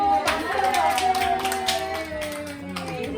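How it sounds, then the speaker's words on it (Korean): A group claps in applause during a yut-nori board game session at a seniors' activity program, a burst of quick hand claps with voices and tones mixed underneath, fading toward the end. "박수!"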